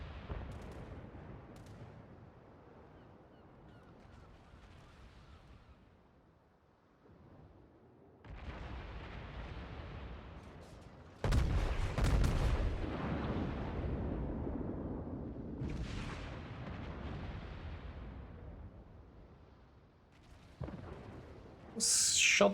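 Battleship guns fire in the World of Warships naval video game, likely aboard the Iowa, producing heavy booming salvos and rumbling blasts, some distant and some close and loud, with a final burst at the end and no talking.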